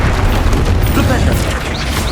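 A Flipendo spell impact during Hogwarts Legacy combat, a dense, loud booming blast that fills the moment with sustained low rumble and crackle, with a voice heard over it.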